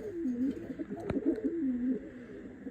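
Pigeons coo in a coop, a soft rolling coo that wavers on and off for nearly three seconds, close and fairly quiet, with one sharp click partway through and no voices.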